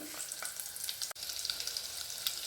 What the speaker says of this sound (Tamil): எண்ணெய் சூடேறிடுச்சு எடுத்து வச்ச ஜீரகத்தையும் இடித்த வெள்ளைப்பூடையும் அதில் சேர்த்துட்டேன் நல்லா பொரியட்டும்